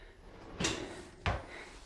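Custom-built drawer in a walk-in closet sliding open and shut, two quick close wooden thuds about half a second apart in a quiet room.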